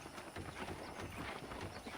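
Horse hooves clip-clopping in the Red Dead Redemption video game, a steady rhythmic trot of repeated hoof strikes, fairly faint under soft outdoor ambience.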